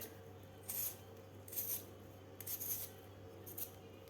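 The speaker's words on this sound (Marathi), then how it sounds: "व्यवस्थित अशी साल काढून घ्यायची आपल्याला। दोन्ही बटाट्यावरची मी साल काढून घेतलेली आहे।" Potatoes being peeled for a mini potato pizza, giving four short scraping strokes roughly a second apart over a steady low hum, close and fairly quiet with no talk.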